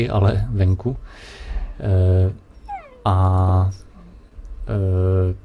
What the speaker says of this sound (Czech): psi vypuštění, tak asi slyšíte štěkot.